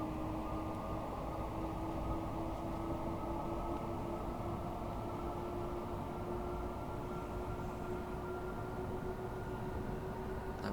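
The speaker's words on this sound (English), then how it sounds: "Thameslink service leaving there, probably going up the up fast." A Class 700 Thameslink electric train in Train Sim World 5 pulls away on the Brighton Main Line, a steady loud rumbling drone with a rising motor whine, continuous and unbroken.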